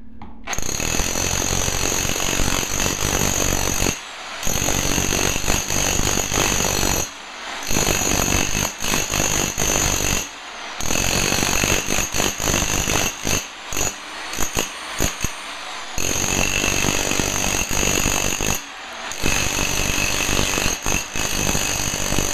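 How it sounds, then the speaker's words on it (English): A Harbor Freight rotary hammer fitted with a wide spade bit breaks up a floor during a property renovation, loud sustained hammering bursts separated by several brief pauses, close and alone. "this is just using the Harbor Freight rotary hammer with a pretty wide spade bit"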